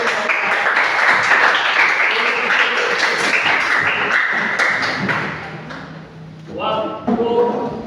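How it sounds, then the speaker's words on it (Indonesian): A classroom audience applauds after a presentation, a dense, loud stretch of clapping for about six seconds that thins out and trails off, with voices coming in near the end. "Oke, mari kita berikan aplaus."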